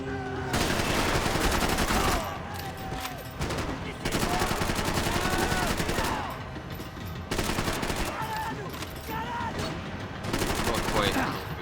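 Rapid gunfire in the video game Max Payne, loud and close, coming in long sustained bursts separated by brief pauses, with a voice talking under the shooting.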